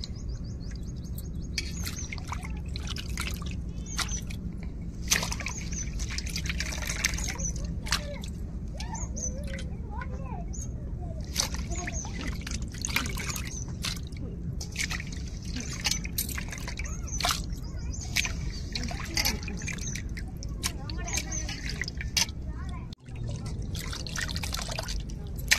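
Peeled small prawns being washed in water, heard as a busy stream of close splashes, drips and sloshes. Birds chirp in the background, with occasional faint voices.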